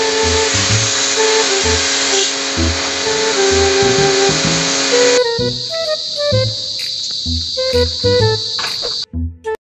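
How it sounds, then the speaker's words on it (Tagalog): A pressure washer sprays a Panasonic inverter split-type air conditioner during cleaning: a loud, steady hiss with a high whine, then a choppier pulsing pattern before the spray cuts off near the end. "Powerful talaga yung pressure washer, no?"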